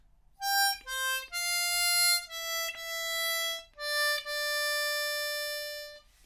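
Diatonic harmonica plays line D of a theme as a slow, clean melody of about six sustained notes, loud and close with no talking.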